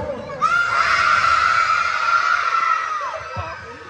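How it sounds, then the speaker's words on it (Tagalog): Children at a charity day event in Matnog let out one loud, sustained shout together in a longest-shout contest, holding it for about two and a half seconds before it trails off. "ang una nating pag-game ay pahabaan ng sigaw"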